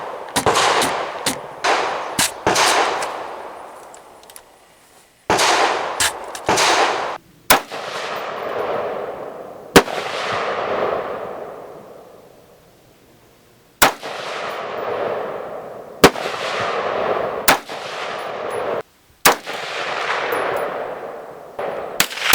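Rifle fitted with a Vortex Sparc II red dot firing at a 50-yard target: a string of sharp, loud shots, each with a ringing echo that fades away, spaced a few seconds apart with pairs and singles.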